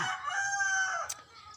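A rooster crows once at dusk in a rural yard, a single long close call that rises and trails off, followed by a brief faint sound.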